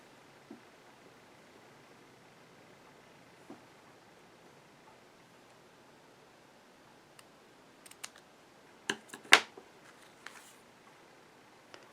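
A few quiet snips and crisp angled cuts of scissors trimming ribbon tails, clustered toward the end after near silence, with faint handling rustles.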